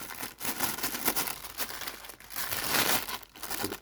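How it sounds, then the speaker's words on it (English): A tissue paper bag holding a Star Wars Vintage Collection X-wing pilot figure is ripped open, giving a continuous close crinkling and tearing rustle with no speech. "Tissue paper bag, I'm just going to rip that open"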